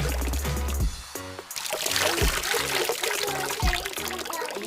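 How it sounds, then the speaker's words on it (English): Water poured into a subsea volcano toy kit: an irregular splashing trickle and pour that continues throughout, close by. "Now, London, I want you to pour a little bit more water in there for me."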